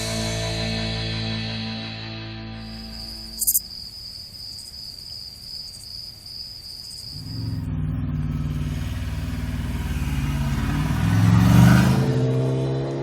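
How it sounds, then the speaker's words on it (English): A superbike accelerating from 60 to 80 mph in sixth gear during a track roll-on test: a droning engine with a high whine that swells into a louder, deeper rising roar as the bike passes close by. "It's a measurement of how long it takes the bike to accelerate from 60 to 80 miles an hour in 6th gear."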